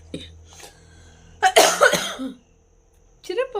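A young girl with a cough and cold coughs in a short, harsh burst mid-clip, close by, with softer voices and household sounds before and after.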